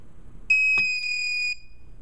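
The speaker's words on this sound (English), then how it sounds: "I get a buzzer and the timer starts to count down." A rotary encoder cooking timer sounds a single one-second electronic buzzer tone as its countdown starts, a sharp, pure high beep, close and alone against quiet background.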